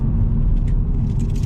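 A BMW M140i drives along, a steady low rumble of engine and road noise heard from inside the car, loud and close for a brief moment.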